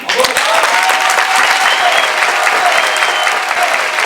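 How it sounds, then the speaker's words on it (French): Audience applause at a film premiere at the Mucem in Marseille for Merlich Merlich, a steady dense wash of clapping held throughout at full strength, with faint voices and a sustained tone woven underneath. "donc on peut l'applaudir"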